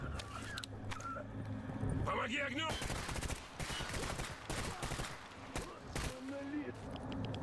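Bursts of gunfire in S.T.A.L.K.E.R. GAMMA, rapid loud volleys of shots firing repeatedly through the clip in a busy in-game firefight, with a voice speaking briefly over it.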